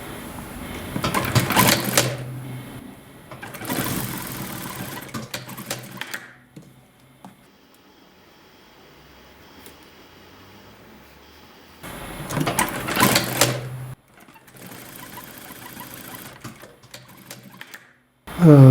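An electric sewing machine backstitches along skirt side seams in short rapid bursts of close, rattling needle clatter, separated by quiet pauses and a few light handling sounds.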